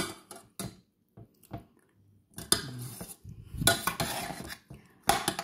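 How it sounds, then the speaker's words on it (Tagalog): A spoon scrapes and clinks against a pan while macaroni with chicken is stirred, a series of irregular metallic knocks and scrapes close up, with quiet gaps between them and no speech. "Halo-haloin natin ng konti at baka masunog ang ilalim."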